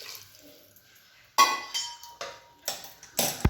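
Hot water poured into a pot of chicken, heard as a series of short splashing, clattering bursts after a quiet start, close by, with no talk.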